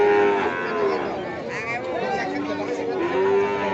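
Simmental cross cattle at the Padangan livestock market in Bojonegoro give loud, drawn-out moos, close by, with faint crowd chatter around them.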